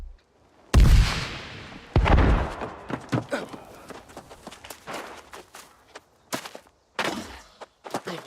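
Two heavy booming cannon shots about a second apart in the video game New World: Aeternum, followed by a string of lighter thuds and clanks, with clattering activity afterward.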